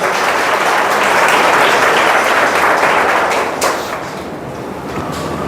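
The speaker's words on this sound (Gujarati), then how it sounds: "આપણે સૌ તેમનું તાળીઓથી સ્વાગત કરીએ" Warm applause from a gathering at an institution for blind residents, welcoming a visiting family; dense, loud clapping from many people that holds steady, then thins and softens toward the end.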